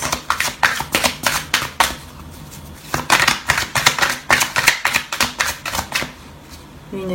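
Oracle cards shuffled and drawn by hand, a rapid series of crisp riffling bursts and slaps close up, repeating in quick clusters with short pauses between them.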